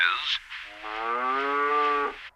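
A classically trained vocalist imitates a cow's moo in a Family Guy cartoon, a high sung note, then a long, loud, resonant low moo held for over a second.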